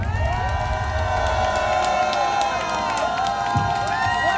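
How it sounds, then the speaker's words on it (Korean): Audience at an election-fraud campaign event cheering and applauding a speaker's entrance, a steady loud wash of cheers and whoops with clapping throughout, no words spoken over it. "박수로 모시겠습니다."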